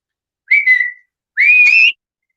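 A person whistles for a dog: two loud, close whistles, the first short and wavering, the second longer with a rising lilt, separated by a brief silence.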